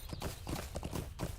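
Horse hooves clip-clop steadily while riding on horseback in a video game, a quick regular rhythm of close, moderately loud hoofbeats throughout.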